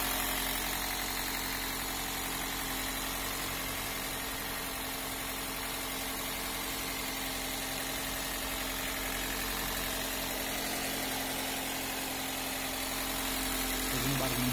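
A 2009 Toyota Corolla engine idles steadily and evenly throughout, a constant close mechanical drone during a check for an air leak with carburetor cleaner spray, with no change in the idle.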